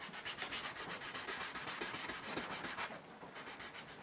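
Hand sanding a wood and resin pendant on grit paper, a soft rhythmic rasp of quick back-and-forth strokes, evenly paced and close, with no voices.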